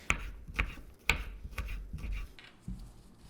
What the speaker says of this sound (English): Then cut the rounds into thin strips.